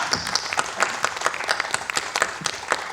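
Dense, steady applause from a crowd, many hands clapping at once with sharp individual claps standing out throughout.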